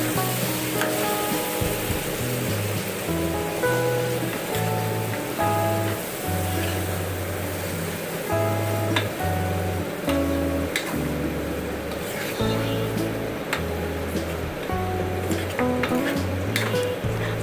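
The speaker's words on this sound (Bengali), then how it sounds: "এরপরে কেটে ধুয়ে রাখা গোশতগুলো দিয়ে এটাকে কষিয়ে নিতে হবে।" Washed chunks of meat for haleem sizzle loudly with fried onion in a pot, continuous frying under repeated scraping and clacking strokes of a stirring spoon, with a low steady hum beneath.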